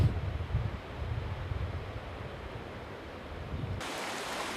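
Ocean waves wash onto a sunny white-sand beach in a steady broad rush mixed with wind noise, with no voices present.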